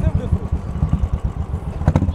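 A Royal Enfield 500 motorcycle fitted with an aftermarket silencer exhaust, running with a deep, rapid thumping beat, close and loud, with a voice talking over it.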